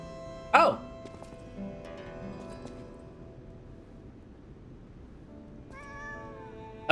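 A cat in the video game Lies of P gives one short, clear meow near the start, followed by quieter game ambience and a few faint chirping tones later.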